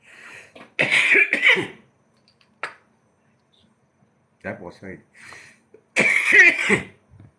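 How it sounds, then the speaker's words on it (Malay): A person coughs in several short, sharp bursts, close and fairly loud, separated by quiet gaps. "Batuk"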